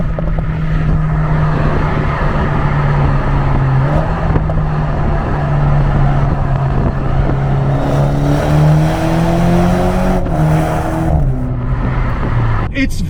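A 2022 BMW Z4 convertible driven hard through corners, its engine drone loud and constant from inside the car, pitch dipping and rising as it works through the bends with wind rush around it.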